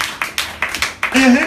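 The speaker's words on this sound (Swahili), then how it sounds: "hebu tupigie Bwana makofi makubwa" A church congregation claps for the Lord in a quick run of sharp, rhythmic claps over about a second, mixed with voices and a brief sung or called tone at the end.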